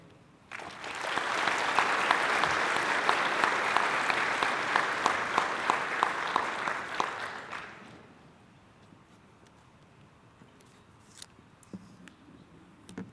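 An audience at a chamber of commerce community celebration in Harker Heights, Texas claps steadily for about seven seconds, then the applause dies away into quiet room noise with a few scattered small sounds.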